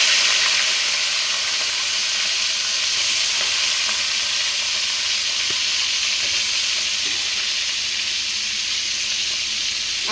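Fish and prawns fry in hot oil in a wok, giving a loud, continuous, close sizzling hiss that holds steady throughout with only faint clicks underneath.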